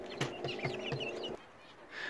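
Chicks cluck and cheep in a rapid run of short calls from a small backyard flock kept in a coop on a smallholding, fairly close but quiet, then the calls fade into a faint background hush.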